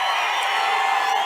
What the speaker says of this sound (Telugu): గెలిపిస్తామని గట్టిగా చప్పట్లు కొట్టి హర్షాన్ని ఆమోదాన్ని